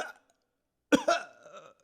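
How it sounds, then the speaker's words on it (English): A man gives a single harsh, throaty cough that trails into a rough rasp after a brief silence, close and fairly loud, with a short earlier vocal sound. "He is coughing a lot."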